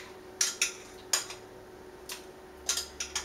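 Beer foam spooned out of a glass of Birra Del Borgo My Antonia in a home kitchen: a handful of light, bright clinks of spoon against glass in irregular pairs, fairly close, over a quiet background with no talking.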